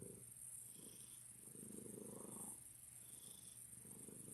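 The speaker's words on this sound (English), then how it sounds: "About the sound of that purr." A cat purrs steadily up close, its low rumbling rising and falling in soft, rhythmic waves against a quiet background.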